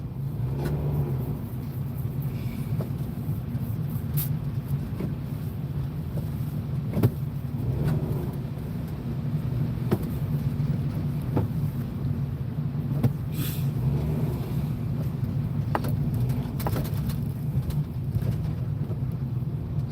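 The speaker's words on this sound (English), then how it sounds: "So what do you guys think of this traffic?" Steady rumble of road traffic passing nearby, a continuous low drone with occasional louder vehicle swells and a few faint bird calls over it.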